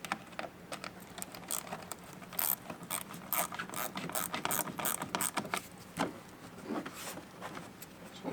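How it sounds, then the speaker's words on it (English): A Phillips head 2 screwdriver turns a number 10 screw into a mud flap on a 2013-2019 Ford C-Max, giving close, irregular clicking and ratcheting ticks with soft rubbing. "Now we're going to take our screwdriver, and these will be a Phillips head 2."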